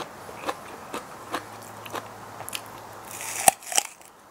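Bites into a seaweed snack that has gone stale and lost its crispness, giving a handful of soft, separate crunches spaced about half a second apart, close and fairly quiet, with two louder bites near the end.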